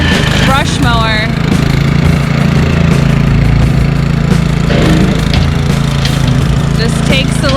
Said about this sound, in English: Brush mower.